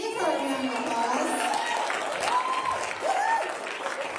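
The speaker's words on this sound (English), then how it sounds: "Give her a round of applause." A church congregation at a Christmas Eve service claps for the children's pastor, steady applause with cheers and whoops lasting the whole few seconds.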